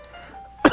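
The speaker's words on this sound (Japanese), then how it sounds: "すいませんちょっと咳ばっか出ました。" A single short, sharp cough bursts out near the microphone after a stretch of quiet room tone.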